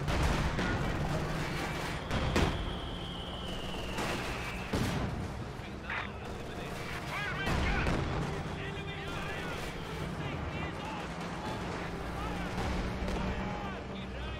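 Heavy 88 mm gun rounds boom in Company of Heroes 2, with several loud, sharp blasts cutting through a dense wartime battle din of rumbling gunfire and explosions while a person talks over it.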